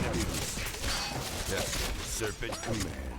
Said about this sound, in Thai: ต้องให้ปืนใหญ่ยิงอ่ะเพราะปืนใหญ่เป็นดาเมจแบบบันครับ